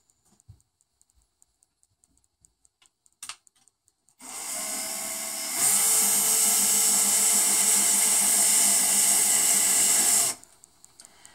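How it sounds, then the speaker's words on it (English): A power drill bores straight down into a dried-flower resin pendant on a desk, starting after a few faint clicks, whining steadily and loud for about six seconds, rising in pitch partway, then stopping abruptly. "We're going to use the drill again, but I'm going to go straight down into it."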